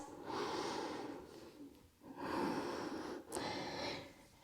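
Slow, deep yoga breaths during a side body flow class: three long, airy inhale-exhale swells, close and fairly loud with no talking.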